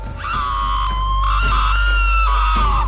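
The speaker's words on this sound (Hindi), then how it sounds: "वो चुड़ैल चिल्लाते हुए मर जाती है" A witch screaming as she dies in a Hindi horror story, rendered as a single shrill, sustained, loud scream lasting about three seconds over a low rumbling background.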